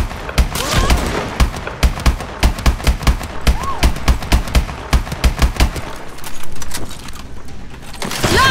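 Sustained gunfire aimed at a sniper in Call of Duty: Advanced Warfare, loud close bursts of rapid shots in a dense rhythm, pausing briefly near the end before resuming, with game voices in between.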